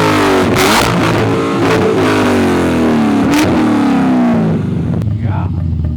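A Corvette Z06 with an LS V8 revs hard and loud nearby, its deep roar climbing and falling in repeated pulls, with voices talking over the engine.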